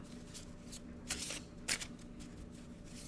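Cosmic oracle card deck being shuffled and handled, soft papery flicks and a couple of sharper riffles, close and quiet with no talk.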